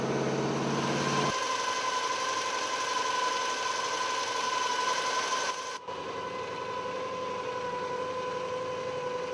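A 327 V8 with a tunnel ram and two four-barrel carburetors runs with a steady, fairly loud tonal drone that shifts sharply in character partway through, then settles into a sustained hum.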